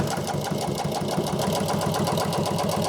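A sewing machine set to a tight number 5 stitch runs steadily through boat cushion upholstery fabric, a fast even mechanical chatter of needle strokes, close and loud with no talking.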